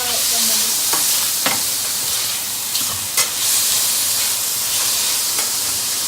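Mushrooms frying in a pan with onion: a steady, close sizzle and hiss runs throughout, broken by a few sharp clicks of stirring.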